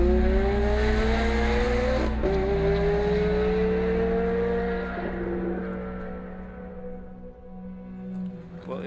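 A supercharged Novitec Ferrari 430 tuned to 636 horsepower accelerates hard. The loud, close engine note climbs steadily in pitch, with a brief break near a gear change before it keeps rising.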